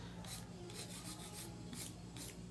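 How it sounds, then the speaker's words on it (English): A nail file rasps up and down over a gel nail surface in steady, even strokes, close and continuous with a soft scratchy texture and no talking. "I kind of just rotate my hand as I'm filing up and down motion."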